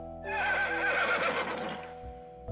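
A baby donkey's sound effect in a folk tale: one loud, sustained braying whinny, close and alone, followed by a soft thump at the end.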